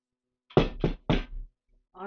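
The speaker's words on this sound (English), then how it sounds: "Tap, tap, tap." Three firm knocks on a glass jar of sugar during vacuum canning, close and distinct, in quick succession, followed by a brief voice.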